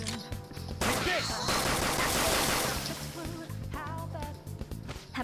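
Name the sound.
gunfire from gun attacks in Persona 5 Royal video game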